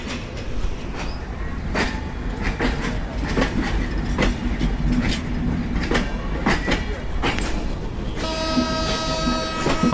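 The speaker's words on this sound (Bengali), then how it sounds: "Up Rupsa express Kotchandpur railway station থেকে ছেড়ে যাচ্ছে।" Up Rupsha Express pulling out of Kotchandpur railway station, wheels clattering steadily over rail joints in a dense, loud rumble with repeated sharp clacks, and a tonal horn or whistle sounding near the end.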